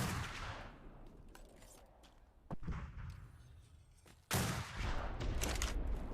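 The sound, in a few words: gunfire in a war video game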